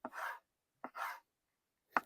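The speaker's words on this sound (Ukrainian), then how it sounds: "я все ж таки нарізаю такими добротними, великими кусками" A knife slices a large polypore bracket mushroom into big chunks, giving a few separate close, crisp cuts with short pauses between them and no talk.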